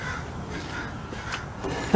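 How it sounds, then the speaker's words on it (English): Crows caw from all around a roadside spot outdoors, with a few short calls rising faintly over steady background noise. "I got crows all around."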